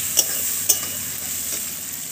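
Vetki fish masala is sautéed with Kashmiri chili powder, giving a steady close sizzle in the pan broken by two sharp scrape-like clicks of stirring near the start.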